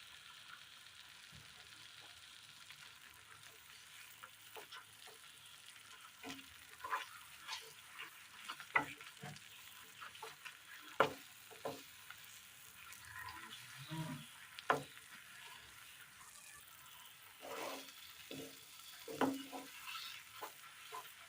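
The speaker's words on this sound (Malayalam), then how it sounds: "അല്പം നെയ്യ് ഒഴിച്ചു കൊടുക്കാം." Ghee sizzles softly in a pan of cooked, dried-down sweet mixture while a spoon stirs it, giving a faint, low hiss broken by scattered scraping taps and knocks, quiet and close throughout.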